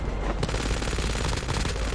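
Rapid automatic gunfire in the mobile shooter Call of Duty Mobile, dense bursts of shots rattling continuously and loudly across the whole moment with no pause.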